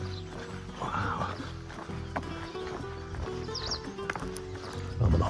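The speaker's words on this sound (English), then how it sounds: "Oh, but the horse is here." A horse on a rural pilgrim trail, with hoof clip-clops and a brief whinny over steady outdoor background noise and low rumble, near and moderately loud.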